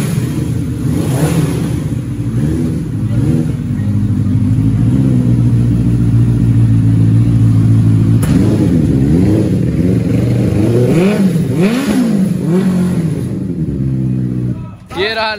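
A new Benelli 600 motorcycle engine idles with a deep, steady rumble, then revs repeatedly in rising and falling bursts, loud and close, while people talk nearby.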